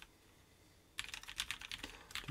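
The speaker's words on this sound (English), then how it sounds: "Just gonna do a little typing around here. What you would expect from Nixie switches." Typing on a keyboard fitted with Nixie switches, a brief quiet pause and then a quick run of crisp, close clacks at an uneven pace.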